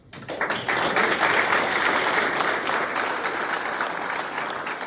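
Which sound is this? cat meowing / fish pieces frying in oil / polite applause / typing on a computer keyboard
polite applause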